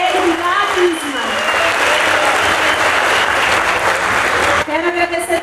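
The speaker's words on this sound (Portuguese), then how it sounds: "Palmas pra ele" Loud audience applause at a soprano's concert performance, sustained clapping that fills most of the stretch, with a voice speaking over it briefly at the start and again as it dies down.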